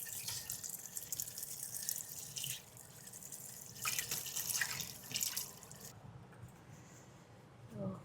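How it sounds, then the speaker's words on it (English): Tap water runs into a van kitchen sink, a steady splashing flow with brief louder gushes, easing off near the end. "I'm gonna fill up this sink with water."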